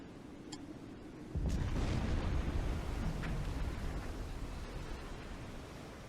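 A torpedo explosion in Silent Hunter 4 breaks a ship in half, arriving as a sudden loud rumbling boom that holds as a dense, roaring wash of low noise and fades only slowly.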